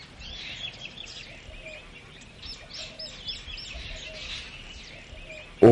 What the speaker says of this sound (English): The blossoms act as beacons for the birds, and there is constant traffic as they vie with each other for the nectar.